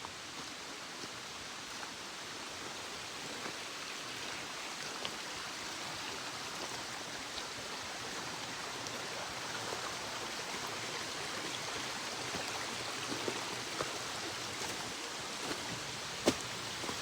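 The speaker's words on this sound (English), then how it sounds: "There's a big waterfall up there." A big waterfall on the Nameless No More hike in Japan gives off an even, hissing rush of falling water that stays constant and soft throughout, as if heard from some distance.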